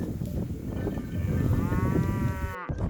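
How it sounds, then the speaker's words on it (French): A herd of cows in the savanna, with a single drawn-out moo rising clearly over low rumbling background noise and wind, cutting off abruptly near the end. "Il y a un troupeau de vaches."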